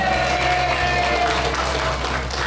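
An audience at a patient talk show on thyroid cancer applauds, steady clapping over a constant low hum, with some crowd noise mixed in.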